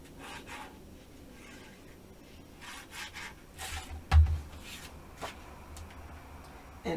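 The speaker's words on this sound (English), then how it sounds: "I'm going to fold these up and burnish." Paper being folded and burnished while assembling a 6x6 paper mini album: quiet rubbing and sliding strokes, soft and close, with one firmer thump partway through and no talking.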